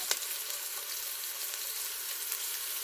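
Garlic sizzles steadily in a hot pan over medium heat for a takeaway-style keema madras, a close, even frying hiss with faint crackles and no talking.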